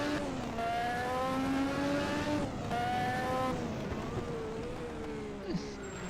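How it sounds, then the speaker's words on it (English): A slow-running Osella Formula 1 car at the 1986 Detroit Grand Prix, its engine droning with a rough, uneven, strained note that rises and falls steadily over the whole span. "It just sounds, the car just sounds like it's crippled, even if it's running properly"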